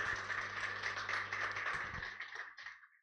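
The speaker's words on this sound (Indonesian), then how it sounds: "Berikan tepuk tangan buat Tuhan." A church congregation at a Sunday service claps together in a brief burst of applause, a dense patter of hands over a low hum, tapering off after about two and a half seconds.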